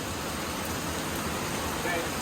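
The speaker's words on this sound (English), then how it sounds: "In Colorado, it rains like this for like 10 minutes and then it stops." Heavy monsoon downpour in Colorado at a steel building construction site, a dense continuous roar of rain drumming on surfaces, loud and unbroken throughout.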